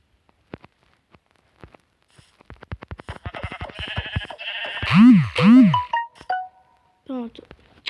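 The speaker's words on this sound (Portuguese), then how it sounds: "Achei a ovelha" Sheep in a Minecraft-style survival game bleat twice in a row, loud and close, after a run of clicking and tapping game sounds, with a few short tones following.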